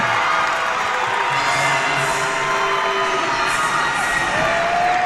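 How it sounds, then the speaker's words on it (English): A basketball crowd in a gym roars and cheers at the end of a lower state championship game, loud and continuous with shouts and whoops layered over the din for about five seconds. "Listen to that crowd."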